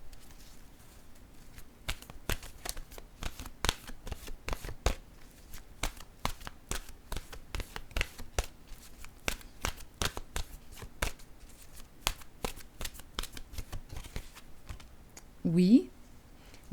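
Oracle cards are shuffled by hand in a long run of crisp, rapid riffling flicks, close and fairly quiet, with a brief voice heard near the end.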